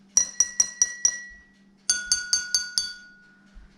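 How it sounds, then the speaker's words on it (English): Drinking glasses tapped in two sets of five: first an empty glass, then one full of water, each strike a bright ringing clink with a short decay, loud and close. "So I have my empty glass and I have my full glass."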